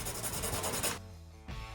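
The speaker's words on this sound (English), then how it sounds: "So I am scuffing it up with 60 grit sandpaper." Coarse 60 grit sandpaper scuffing a tube, a close, quiet rasping rub in a steady back-and-forth stroke, pausing briefly before resuming.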